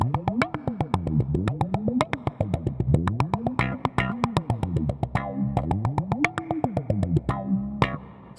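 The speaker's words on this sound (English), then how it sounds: "With an envelope filter, it sounds like this." SlapStick N-100 electric percussion played through an envelope filter, giving quick plucked hits a vowel-like, wah-style sweep. Pitch slides swoop up and down between the sharp attacks in an uneven, funky rhythm at moderate level.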